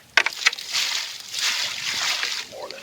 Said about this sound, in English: Get a little water in there.